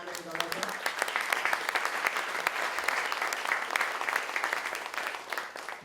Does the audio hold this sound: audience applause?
yes